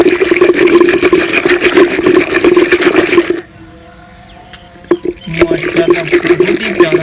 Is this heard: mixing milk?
yes